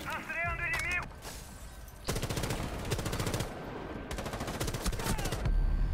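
Rapid automatic gunfire in the video game Rainbow Six Siege, with two long sustained bursts of fast shots and a shorter opening burst, loud and close, while a player talks excitedly in the gaps.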